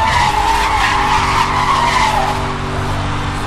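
A Dodge Charger drifts in Need for Speed Hot Pursuit, its tires skidding in a long, continuous loud squeal over steady engine roar, close and sustained throughout.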